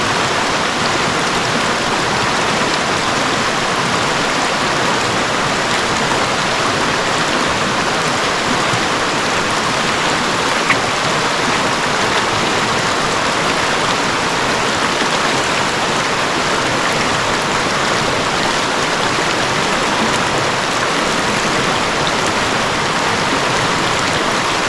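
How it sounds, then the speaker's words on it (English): Big Wilson Stream rushing at a river crossing in the 100-Mile Wilderness, a loud, steady broadband roar of flowing water heard up close, constant and unbroken, with no voices. "Making my way across Big Wilson Stream."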